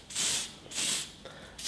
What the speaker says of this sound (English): you can spray that on your clippers to sort of oil up your clippers, or you can put it over the face